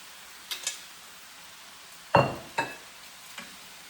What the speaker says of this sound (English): Okay, so now I'm going to drop in my noodles.